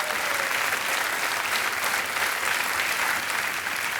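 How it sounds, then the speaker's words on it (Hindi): A studio audience on the quiz show Kaun Banega Crorepati applauds a contestant, with dense, steady clapping that holds at an even level for several seconds without a break. "तालियों के साथ इनका हम अभिनंदन करते हैं।"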